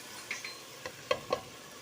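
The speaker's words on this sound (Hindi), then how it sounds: "अब हम इसमें डाल देंगे अपनी चिकन हमने रखी दी थी, और इसकी अच्छी तरह से हम करेंगे अब भुनाई" Chicken roasting in a pan with salt for bhunai, a soft steady sizzle with several light clinks and scrapes of a spoon stirring, close and quiet.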